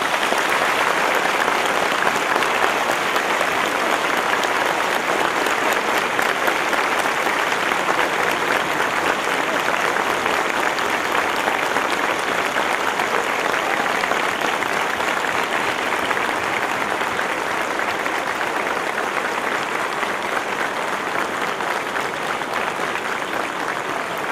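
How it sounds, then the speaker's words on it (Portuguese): Steady, dense applause from a large crowd at a graduation ceremony continues without pause, a full even roar of clapping that stays loud throughout. "receber uma homenagem de todos nós presentes através de uma grande salva de palmas"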